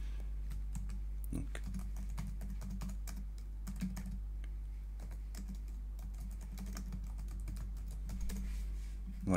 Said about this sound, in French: Je vais taper mon texte directement sur le bouton.